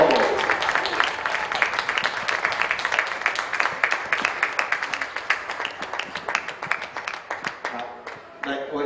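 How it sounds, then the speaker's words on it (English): Outdoor crowd applause for the polo teams at a weekend polo tournament at The Villages Polo Club, a scattered clapping lasting several seconds at moderate level, with some voices mixed in. "Give them a round of applause."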